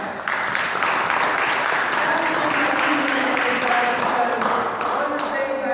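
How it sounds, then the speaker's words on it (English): An audience at a town hall meeting on homelessness applauds, a dense sustained burst of clapping from a room of people lasting several seconds. "I'm going to give them a hand clap"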